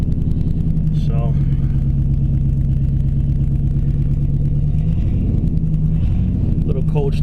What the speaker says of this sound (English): little cold start action.